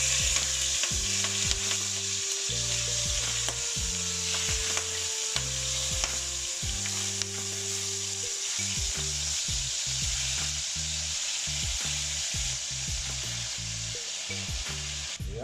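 Chicken pieces brown in hot oil in a pot for Jamaican brown stew chicken, giving a steady, loud sizzle across the whole stretch with scattered stirring knocks and no talk.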